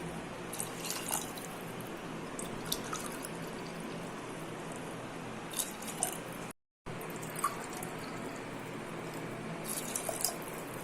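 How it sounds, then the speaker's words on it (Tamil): Coconut milk poured into a pot for seeraga samba rice: a continuous close liquid pour with small splashy drips, steady throughout apart from one brief break. "இது வந்து சீரக சம்பாவில் செய்கிறனால ஒன்றுக்கு ரெண்டு அளவில் நான் ஊற்றுறேன்"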